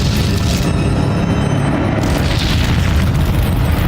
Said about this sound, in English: They blew up a whole planet.